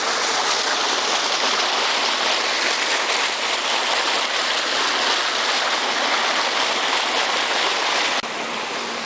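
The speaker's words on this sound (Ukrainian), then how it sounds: "А рядом проходить тепла вода" Warm water pouring from a factory outlet, a continuous close rushing and splashing that holds steady and loud throughout, dropping slightly in level right at the end, with no voices.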